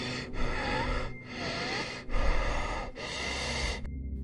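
Slow, rhythmic breathing close by at the foot of a bed, four long drawn breaths separated by brief pauses, steady and alone with no talk.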